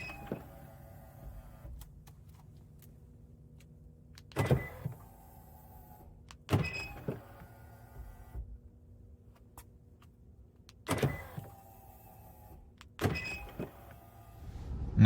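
Door lock actuator of a Hyundai Ioniq 5 Limited in cold weather, about 33 degrees, giving four separate short mechanical whirring clunks a few seconds apart over a quiet background, close and fairly soft.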